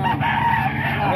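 A rooster crows at a Baliwag, Bulacan market, a Black Macre crossbred bird, heard as one sustained, loud, nearby call within a busy setting.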